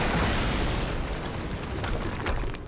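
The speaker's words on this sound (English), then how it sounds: "HQ, we just heard an explosion near the harvesting perimeter." A big explosion goes off in the video game Quantum Break, a loud, sustained rumbling blast that fills the whole clip with dense, broad noise and fades slightly near the end.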